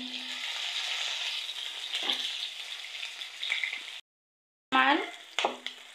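Onion and green chili fry in oil in a pan with cumin, giving a steady close sizzle broken by stirring scrapes, a brief silent gap, then a louder burst of sizzling.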